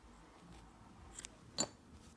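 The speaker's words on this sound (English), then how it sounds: "and finally cut the yarn." Scissors snip through crochet yarn: two faint, quick cuts followed by one sharper, brighter snip, close by in an otherwise quiet room with no talking.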